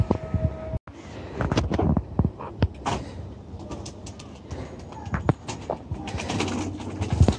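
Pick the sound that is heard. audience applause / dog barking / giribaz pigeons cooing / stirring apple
giribaz pigeons cooing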